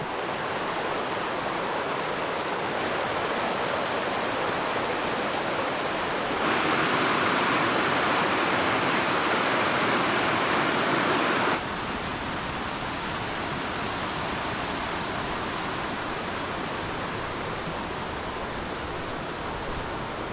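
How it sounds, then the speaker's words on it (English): A river current rushes in a dense, unbroken roar, loud and close, holding steady throughout with slight shifts in level and no voices. "Look at a gorgeous stretch of river."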